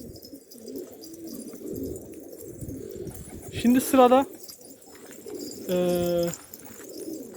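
Fancy pigeons coo in a loft, low rolling calls layered through the clip, with someone briefly speaking and a couple of sharper, louder sounds rising above the birds.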